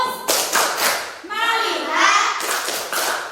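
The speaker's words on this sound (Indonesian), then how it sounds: "Tepuk fokus." Elementary classroom doing a rhythmic focus clapping routine, children clapping in short patterned bursts and chanting together in sing-song voices between the claps.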